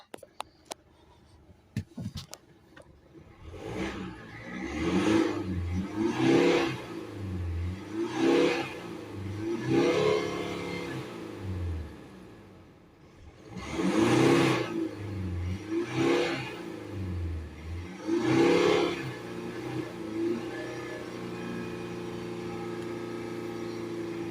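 A Mercedes C220 2.1 CDi diesel engine idles, then repeatedly revs up and drops back in a series of surges, fairly close and moderately loud, with no talking.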